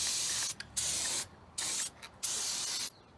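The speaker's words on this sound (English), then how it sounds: "we're gonna do is just gonna spray some Brakelin and just clean it up" Brake cleaner sprays onto a car's brake rotor in several short hissing bursts separated by brief pauses, close and fairly quiet.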